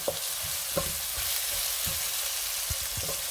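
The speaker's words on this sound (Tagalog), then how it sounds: "Ilagay na rin natin ang ating sili. Yan. At gisa natin." Chili sizzles in a hot pan while it is sautéed, a constant frying hiss punctuated by soft, irregular knocks of a spatula stirring close by.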